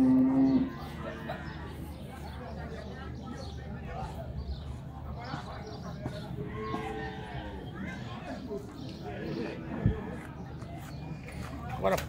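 Cattle in a pen at a rural horse fair, giving low moos amid a murmuring crowd and farm bustle, with someone talking close to the microphone throughout.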